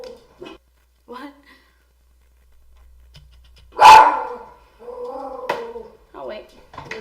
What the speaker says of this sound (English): Now my dogs are gonna go crazy again.